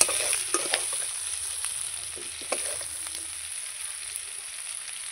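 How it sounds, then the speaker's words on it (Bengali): Potatoes frying in oil in a pan while chicken is cooked with ground spices, a steady close sizzle with occasional stirring scrapes, no talk. "আলু আমার ভাজা হয়ে গেছে।"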